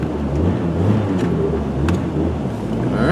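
A 1998 Saturn SL1 with a five-speed manual gearbox pulls across a street. A close, steady low engine rumble runs throughout, with a faint rise in effort and no voices.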